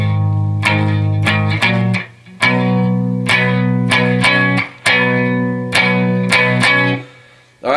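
Distorted electric guitar power chords from a song ring out loud and close in sustained strummed groups, each phrase cut off by a short gap before the next, with no voices.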